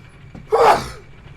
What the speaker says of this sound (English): That was a sneeze that had been brewing for a long time.